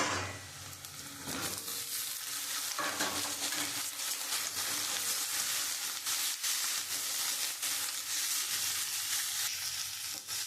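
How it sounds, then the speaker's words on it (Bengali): Sliced radish sizzling and frying in a pan with browned onion, a steady close hiss with faint crackles and occasional stirring clatter throughout, no voices. "দিয়ে আমি মুলোটা একটু লাল লাল করে আমি ভেজে নেব"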